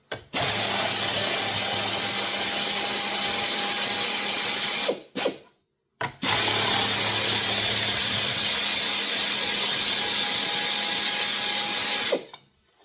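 A power tool whirs steadily as bolts are driven out of wooden dining chair legs, two long loud bursts with a brief stop and a short spin between them, with no talking.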